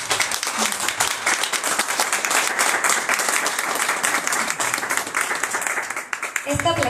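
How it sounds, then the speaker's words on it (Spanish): Audience applause at a school ceremony unveiling classroom plaques: dense, steady clapping fills about six seconds at close range, ending with a voice speaking briefly at the end. "Un aplauso, por favor."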